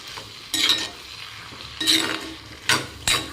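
Masala Maggi noodles being stirred in a pan, with a few separate bursts of utensil scraping against a low sizzle, close and moderately loud, no talk.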